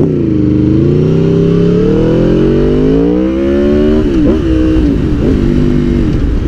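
A bobber motorcycle accelerating hard into a wheelie: a loud, close engine roar climbing steadily in pitch, then dipping and wavering through quick throttle changes.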